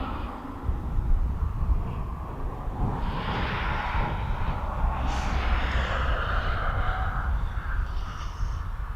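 An airliner inbound from Belfast on approach to East Midlands Airport produces a steady, broad jet roar that swells gently and holds throughout, heard from the ground at moderate distance with no talk.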